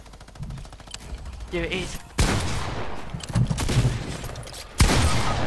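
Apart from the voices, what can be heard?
minigun firing in a video game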